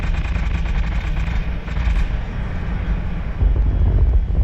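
Aircraft guns firing in War Thunder, a steady rumble of engine and wind with rapid gunfire bursts, loud and continuous, no voices.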